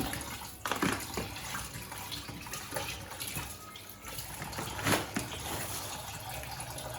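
Tap water runs steadily into a sink or bowl while bonito fish are rinsed, a continuous close splashing rush with occasional louder sloshes.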